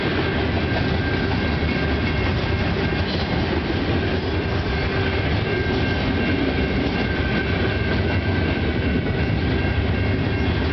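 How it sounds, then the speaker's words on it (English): A CN freight train with a Metrolinx car rumbles steadily past at Lower Base Line in Milton, Ontario, a dense continuous roar of wheels and cars with faint rhythmic clatter, close by. "Yep, this is 435 CN train."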